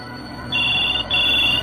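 An electronic telephone rings nearby with two steady, high-pitched tones separated by a short gap, over a low background hum.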